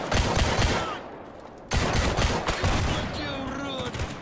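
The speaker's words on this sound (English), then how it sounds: "I could hear a lot of gunshots from the bandits I was supposed to kill at the pump station." Bandits fire guns at a pump station in the video game S.T.A.L.K.E.R., rapid overlapping bursts of gunfire close by, a brief lull, then more shooting.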